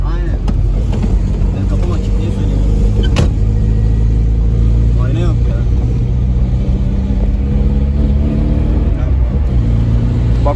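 A Tofaş car with a leaking, punctured exhaust drives along, giving a steady loud engine rumble with uneven revving throughout, while people talk over it inside the car.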